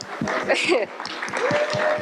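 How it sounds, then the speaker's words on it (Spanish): Audience applauding after a talk, scattered claps that are partly mixed with speech and murmuring voices for about two seconds. "démosle un aplauso a Ram porque su charla fue excelente."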